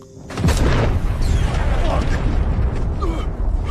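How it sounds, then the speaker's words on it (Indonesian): A loud, sudden car explosion bursts in and rolls into a sustained roaring rumble, heavy and close, with no speech over it. "tiba-tiba mobil regu yang akan kembali ke markas meledak"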